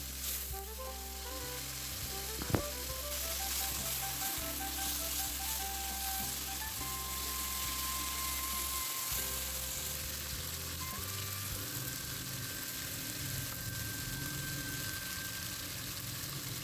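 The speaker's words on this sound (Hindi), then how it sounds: "तो अच्छे से हम इसको कुक कर लेंगे 2 से 3 मिनट के लिए" Chicken fries in a pan while a chicken macaroni pasta dish is being made, giving a loud, steady close sizzle that runs without a break and has no talking over it.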